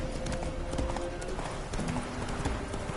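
Hooves of a galloping horse in The Witcher video game, a fast continuous clip-clop that stays close and loud with a brief whinny, and no talk over it.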